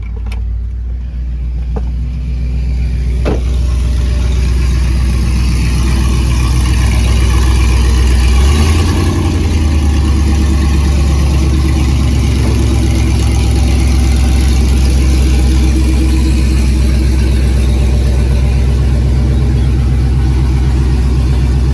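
An LS-swapped Camaro engine runs and idles nearby with a deep, steady rumble, rising briefly in a slight rev partway through before settling back to idle.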